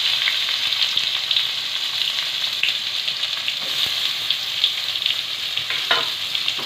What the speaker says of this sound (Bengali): পেঁয়াজ কোচানো দিলাম।